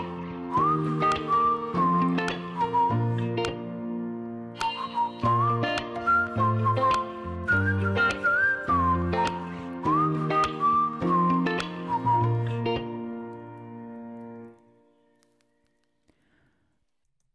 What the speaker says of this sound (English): Oh, there's whistling too.